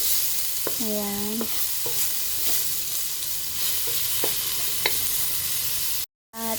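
Ginger sautés in a pan for chicken tinola, a steady close sizzle with scattered stirring clinks, one ringing metallic tap early, and a brief spoken word, ending in a short cut to silence.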